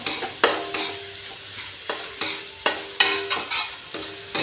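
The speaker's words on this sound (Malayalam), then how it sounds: "ഇതിനൊന്ന് ഗരം മസാല ഇട്ട് കൊടുത്തിട്ട് നമുക്ക് ഒന്ന് നന്നായിട്ട് ഇളക്കണം" Garam masala is stirred into onions in a pan for an Indian chicken masala, with repeated spatula scrapes and knocks at a steady pace over a soft frying sizzle, close up and without talk.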